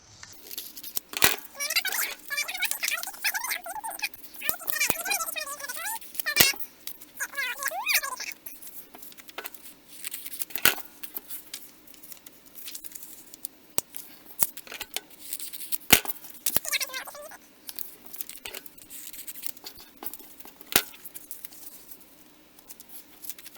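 Scissors snipping through folded paper for a flower pop-up craft, with a series of crisp, close cuts and rustles at irregular intervals, some bursts of rapid snipping, and someone speaking intermittently.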